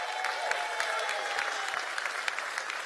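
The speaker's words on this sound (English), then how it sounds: "Please give a round of applause" Crowd applause at an MLB All-Star FanFest morning event, honoring George Mason University's Green Machine band: steady, dense clapping throughout with no pauses, moderately loud and fairly close.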